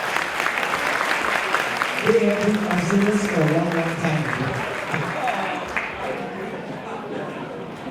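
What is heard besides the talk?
audience applause at a convention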